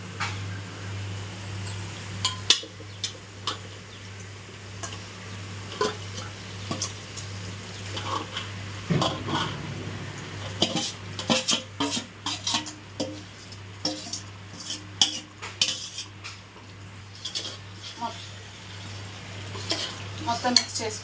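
Marinated chicken for biryani sizzles in a pan while a spoon stirs it repeatedly, making frequent metallic scrapes and clicks over a continuous frying hiss and low hum.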